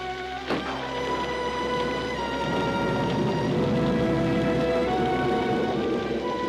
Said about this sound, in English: It's only a little storm.